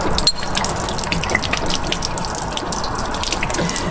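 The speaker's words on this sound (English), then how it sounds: "all the water has drained out of here" Water runs and drains steadily out of an Airstream Sport trailer's plumbing during winterizing, a continuous gushing, splashing flow with faint drips, close and fairly loud, with no talk.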